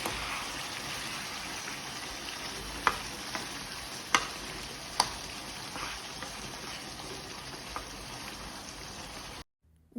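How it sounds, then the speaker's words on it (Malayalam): A spoon scrapes and stirs cooked beef with pepper powder in a pan, giving a steady soft sizzle broken by a few sharp clicks of utensil against metal before it stops abruptly. "ബീഫ് ഇട്ടിട്ട് നല്ലോണം മിക്സ് ചെയ്തെടുക്കേണ്ട കുരുമുളക് പൊടി എല്ലാ ഭാഗത്തേക്കും എത്താൻ വേണ്ടിയിട്ട്"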